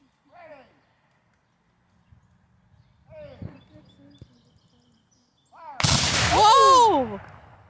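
A Civil War reenactment brigade fires all its weapons at once in a single loud volley, a sudden dense burst that rings out and trails off after sparse shouted commands and a call of "ready".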